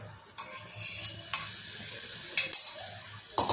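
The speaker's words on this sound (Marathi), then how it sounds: "इथं मी 2 चमचे दही घालतीये" A spoon stirs two spoonfuls of yogurt into cooked curry masala in a pan for egg curry, giving a few distinct scraping strokes over a soft, low sizzle with the gas off.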